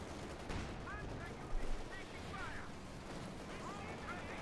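An M1 anti-tank gun firing in the Company of Heroes 2 strategy game, distant booming shots mixed with battle noise and small-arms crackle, with a commentator's voice heard over the action.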